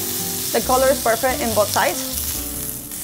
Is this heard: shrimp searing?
yes